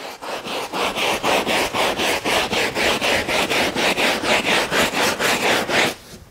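A brush scrubs cleaning solution into a fabric car floor mat in quick, even back-and-forth strokes, about three per second, close and loud, stopping at the end, with no voices.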